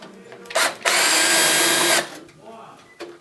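A cordless drill driver unscrews the screws from the back of a computer power supply unit. It gives one loud, steady whirring burst of about a second and a half, close by, with short start-up buzzes around it.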